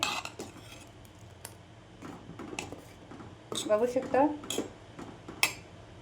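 A spoon scrapes and clinks against a pan while a sabudana and potato papad mixture is stirred, with soft squishy stirring and a few sharp metallic taps, under a voice speaking Marathi.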